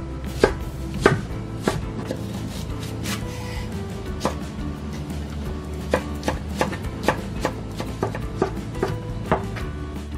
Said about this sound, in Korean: 양파 대파를 잘게 썰어서 넣어줄 건데